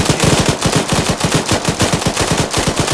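Light machine gun fire in the video game Arma, a steady stream of rapid, evenly spaced shots hammering loudly and without a break.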